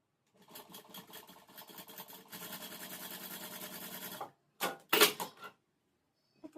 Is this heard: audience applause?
no